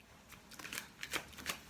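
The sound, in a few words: shuffling Greenwood oracle deck cards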